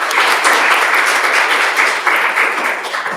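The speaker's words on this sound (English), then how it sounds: "A round of applause for Aditya as well." Audience applause at a React Native and Flutter developer meetup, a steady, dense wash of clapping that stays loud and even for the whole stretch without any talk over it.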